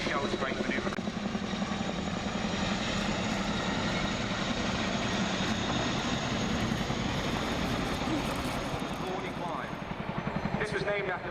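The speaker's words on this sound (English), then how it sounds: "the Chinook used to demonstrate its excess of power compared to other helicopters" A Chinook helicopter thunders nearby at an air show with a steady, heavy rotor thrum and engine roar that holds throughout, with faint voices beneath.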